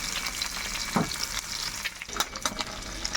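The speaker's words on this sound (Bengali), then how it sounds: "এই দেখো একে একে সব ডিমগুলো আমি ভেজে দিচ্ছি" Duck eggs frying in a pan, batch after batch, make a soft, steady sizzle with a few scraping stirs and light spatters near the mic, and no one speaks.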